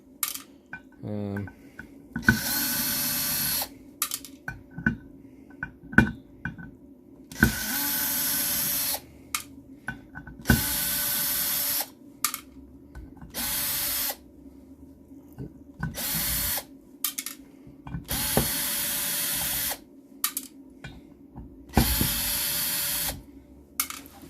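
A power drill pulls screws out of e-waste in repeated short bursts of high whirring, separated by pauses filled with metallic clinks and handling of parts.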